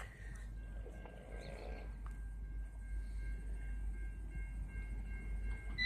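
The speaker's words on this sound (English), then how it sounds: "it's got the Nathan P5s blowing on the train." A V/line N451 train sounding its Nathan P5 horn, heard outdoors at a distance as a faint sustained horn tone over engine rumble and wind, with no talk.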